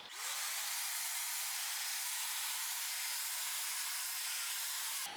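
A continuous, loud hiss of a paint spray gun spraying a test piece of wood, running steadily for about five seconds, starting and stopping abruptly.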